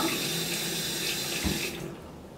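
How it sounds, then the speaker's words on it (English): Water runs from a tap into a sink in a steady, close hiss that cuts off near the end, leaving a quieter room tone. "We've cut the water off and then we'll cut it back on simply because we want to conserve"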